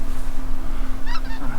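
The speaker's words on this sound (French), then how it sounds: "Là il y a tout un groupe d'oies qui va passer au-dessus de moi." A group of migrating geese passes overhead, honking in a few short, moderately distant calls over a steady low outdoor rumble.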